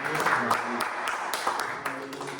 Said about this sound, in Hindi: सब लोग ताली बजाकर स्वागत करेंगे।